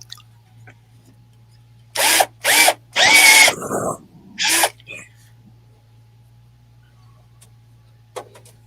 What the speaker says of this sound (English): I might have to get my drill press out for that.